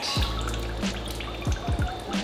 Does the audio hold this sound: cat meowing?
no